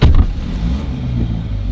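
A JCW GP car engine starts up in sport mode with a loud, low burst that settles into a steady, close idle rumble.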